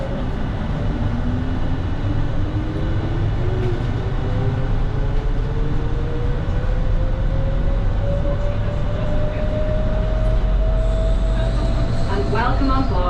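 The Gatwick Airport shuttle train runs with a loud steady rumble and a rising whine as it moves, close and continuous for the whole stretch.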